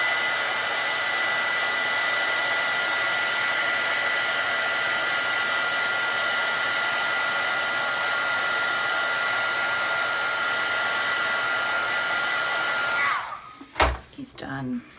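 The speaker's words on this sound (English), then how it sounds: "The easiest way to handle that is just to heat dry it." A heat tool blows steadily to dry bleeding watercolour marker ink on paper, a loud continuous whir lasting about thirteen seconds before it is switched off, followed by a few brief knocks.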